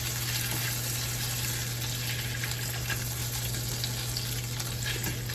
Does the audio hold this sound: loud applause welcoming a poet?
no